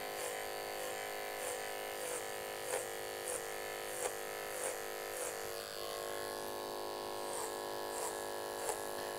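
Electric hair clipper buzzing steadily and close during a low fade haircut with a side part, its drone swelling in regular pulses as it works slowly through hair, with no talking.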